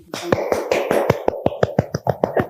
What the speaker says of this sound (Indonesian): Kok cuma saya yang tepuk tangan sih?